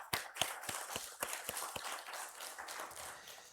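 A church congregation at a Thanksgiving Sunday morning service gives a welcoming round of applause, a series of rhythmic handclaps, fairly close, that soften toward the end.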